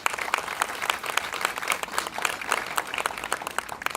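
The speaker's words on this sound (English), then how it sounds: "So they deserve another round of applause if you don't mind." Sustained audience applause at an academic building expansion ribbon cutting on a campus, dense steady clapping from a crowd that holds even for the full stretch without any talk.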